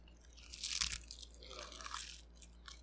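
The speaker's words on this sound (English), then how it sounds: "This is a crispy crunch." Close, loud crunching of a crispy barbecue-flavored snack, a burst of crackly bites followed by softer chewing, with no talk.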